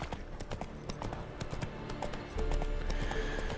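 Roach, Geralt's horse in The Witcher 3, clip-clops in a steady hoof rhythm close by, with game ambience underneath and the footfalls getting louder and heavier toward the end.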